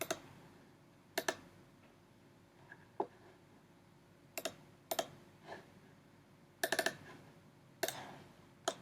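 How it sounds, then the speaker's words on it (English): Keys clicking in short irregular bursts on a computer keyboard, quiet and close, with brief pauses between clusters of taps and no talking. "So let me type here this one."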